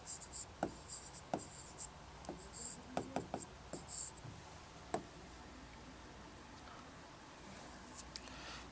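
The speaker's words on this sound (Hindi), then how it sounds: "मैंने जैसे यहाँ पर लिख रहा हूँ, ध्यान देना, प्रश्न लिख रहा हूँ" Chalk or a marker writes a question on a board, producing sparse taps and short scratchy strokes at close range, quiet and irregular.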